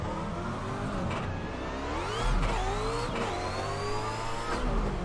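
A car engine in a drift racing video game revs up and down repeatedly, rising and falling whines with a steady motor drone, moderately loud with no voices.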